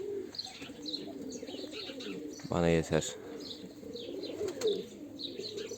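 Soft cooing of play pigeons in a loft murmurs in the background, with a brief louder burst of calls midway and a man's short remark.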